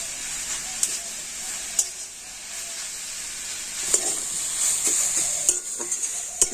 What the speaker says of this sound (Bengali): লাউটা কিন্তু হালকা করে ভেজে নেব আর লাউটা তো ঘিয়ের সাথে এইভাবে ভেজে নিলে